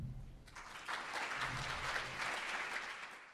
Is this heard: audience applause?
yes